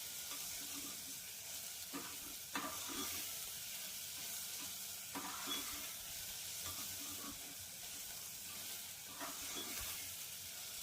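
Ginger and garlic sizzle in oil in a pressure cooker pot for a one-pot rajma curry, a steady close frying hiss broken every few seconds by the scrape and clack of a spoon stirring.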